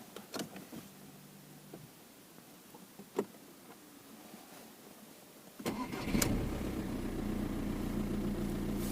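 An Audi A4 B7 that had been failing to start and stalling cranks after a few quiet clicks, then its engine catches and settles into a steady close idle.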